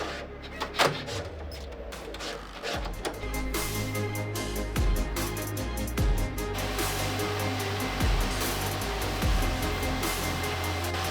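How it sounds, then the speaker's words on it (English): A Bambu Lab H2C 3D printer homes, warms up and swaps in a nozzle from its rack before printing, giving a steady mechanical whir with repeated motor sweeps and clicks close by. "Now everything is gonna home, it's gonna warm up, it's gonna pick our nozzle off the rack that we're gonna be using, and we'll start printing."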